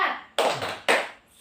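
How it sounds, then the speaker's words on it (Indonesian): A small group of adults doing a rhythmic 'tepuk semangat' clap, three sharp bursts of hand claps spaced about half a second apart, close and loud. "Gimana kalau kita tepuk semangat dulu?"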